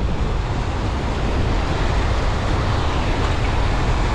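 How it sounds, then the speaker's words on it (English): Big sea waves surging around someone fighting a fish while fly fishing for sea trout in shallow water at sunset, a loud, continuous roar of surf and wind with no talk. "It's always like this when fighting a fish in big waves."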